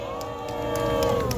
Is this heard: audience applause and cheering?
yes